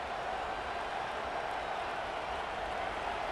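Stadium crowd noise in the video game College Football 25, Georgia vs Alabama, forms a constant roaring wash of many voices, steady and undifferentiated without distinct cheers or peaks.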